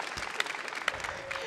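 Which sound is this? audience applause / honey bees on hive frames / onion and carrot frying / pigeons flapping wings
audience applause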